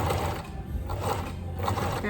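A sewing machine stitches the edge of a fabric scrunchie, a close, steady mechanical whirring hum with faint rhythmic pulses that runs throughout.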